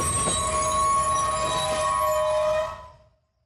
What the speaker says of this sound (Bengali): এমন সময় শুনতে পেলাম ট্রেনের হুইসেলের শব্দ। ট্রেন এসে গেছে